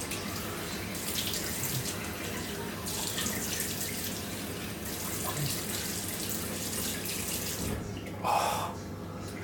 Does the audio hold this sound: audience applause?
no